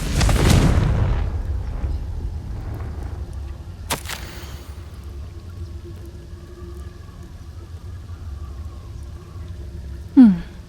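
The Confringo fire spell in Hogwarts Legacy erupts with a loud booming blast at the start that fades into a rumbling tail, followed by a sharp crack midway and another brief, bright burst near the end.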